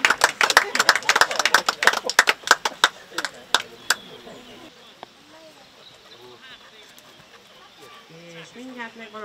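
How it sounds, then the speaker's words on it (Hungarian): An audience applauds with loud, close claps for about four seconds, then the clapping fades away as a voice talks over a quieter room. "akkor egy nagy tapsot kérünk"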